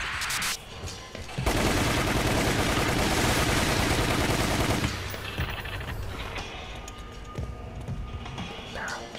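Rapid sustained automatic gunfire from the Resident Evil Umbrella Chronicles video game, loud and dense for several seconds before easing into scattered shots, with people talking faintly underneath.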